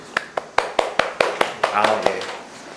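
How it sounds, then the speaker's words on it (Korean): A debate audience answers a prompt with about a dozen sharp, evenly spaced claps that get slightly faster toward the end, clear and close, with a voice murmuring underneath. "박수 유도를 한번 해봤고요"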